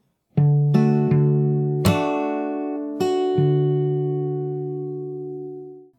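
A short fingerstyle guitar phrase with percussive slaps gives five crisp struck attacks that let full chords ring out, then a long fading sustain, close-miked and solo.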